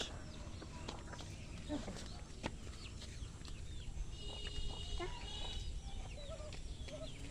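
Farmyard chickens clucking in short, scattered calls against a faint outdoor background. The calls are fairly quiet and come from a moderate distance.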